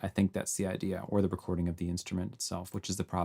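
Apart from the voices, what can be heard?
No everyday noise stands out behind the speech.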